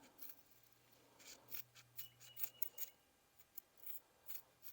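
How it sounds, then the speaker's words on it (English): Scissors snipping through heat wrap for an exhaust down pipe on a 6.2 diesel, a series of faint, quick crisp cuts and rubbing sounds spread irregularly across the quiet background. "Maybe the scissors will cut it this time."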